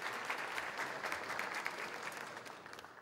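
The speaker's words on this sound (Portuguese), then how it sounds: "ra, fundador do Hospital de Olhos do Paraná, recebendo a salva de palmas dos senhores parlamentares colaboradores do, do Hospital de Olhos." Faint applause from members of parliament during a plenary session, a distant steady patter of clapping hands that tapers slightly toward the end.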